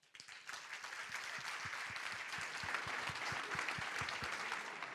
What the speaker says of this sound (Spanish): muy fuerte el aplauso para Montserrat